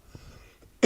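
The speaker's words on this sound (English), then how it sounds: "Grandpa's got to clear his throat." A single short, gruff throat clearing at the very end of a quiet moment, close to the microphone.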